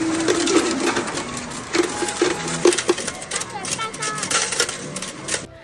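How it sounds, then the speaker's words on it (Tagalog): Coins of mixed values clattering and jingling continuously as they feed through a coin counting machine, with a busy metallic rattle and a running mechanical whir close by, and people talking over it. "Talagang pumapasok siya sa machine and then nagko-continuous count lang siya."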